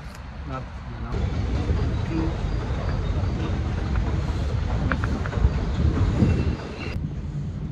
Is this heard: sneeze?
no